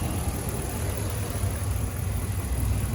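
A 2012 Ram 1500 SLT 4x4 with the 5.7 liter Hemi V8 idles smoothly, a steady low rumbling engine drone heard close and alone for a few seconds.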